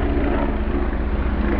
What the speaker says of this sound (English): Noisy ass fucking helicopters, man.